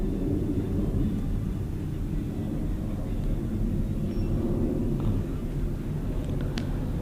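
A plane passes overhead during outdoor planespotting, a steady broad rumbling roar that stays constant and fairly loud throughout, with no talking.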